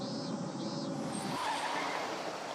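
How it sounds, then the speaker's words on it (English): A car engine in a Higurashi visual novel scene drones steadily with a tire-squeal-like whine, holding at a constant moderate level for a couple of seconds without speech. "Just then I heard a loud engine sounds coming from the outside the house."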